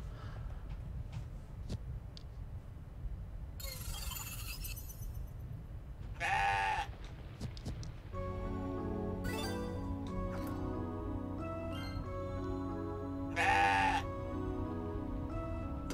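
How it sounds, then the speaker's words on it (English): Goats bleating in the video game CrossCode, several loud, nasal bleats spaced apart over a quiet ambient background with soft game music, and nobody talking. "Oh, we're talking to the goats now."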